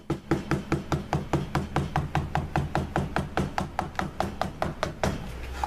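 Steady hammer taps on a leather holster's stitch line, struck with a corkscrew hammer rather than a leather-specific one, about four blows per second for over five seconds, close and evenly paced, with no talk.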